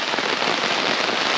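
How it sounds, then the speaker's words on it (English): Heavy tropical storm rain falls steadily around a night campsite, a dense continuous hiss of drops pattering on surfaces, loud and close with no voices. "Still raining."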